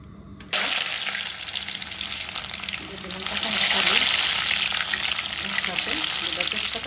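Bay leaf and tomato hit hot oil in a pan, giving a loud, steady sizzle that starts abruptly and swells a little partway through, with no talking.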